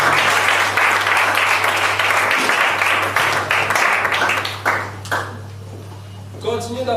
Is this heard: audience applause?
yes